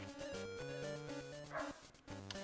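A dog barks repeatedly in a home, the barks thick and tonal, close by and steady through the whole stretch.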